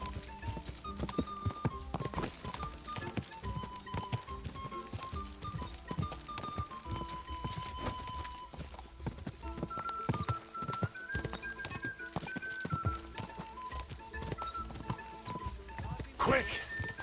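A horse's hooves gallop across fields in Kingdom Come: Deliverance 2, giving a continuous run of clip-clop beats under game music and a voice talking, with a brief whinny-like sound near the end.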